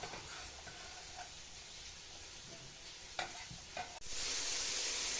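Onion frying with meat in a pan, a steady sizzle with stirring clatter near the end, which ends in a louder burst of hissing.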